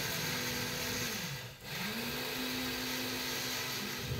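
An electric grinder whirs as it blends white and black mustard seeds, poppy seeds and green chilies into paste, a steady motor drone that dips and briefly stops before spinning back up, heard alone.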